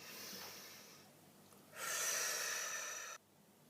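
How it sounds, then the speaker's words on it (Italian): A deep breath in and out, starting with a soft inhale and swelling into a louder, airy exhale that stops abruptly, close to the microphone with no talking. "facciamo un bel respiro profondo"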